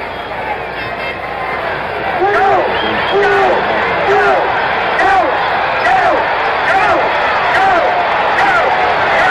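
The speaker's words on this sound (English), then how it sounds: "Crowd yelling, go, go in the background." Crowd at a 1974 World Series baseball game in Oakland yelling "go" in repeated rising shouts, a steady loud roar behind an announcer talking.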